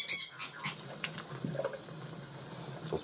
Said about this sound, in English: All I need to really do now is just kind of rinse them off, get the pine needles and things off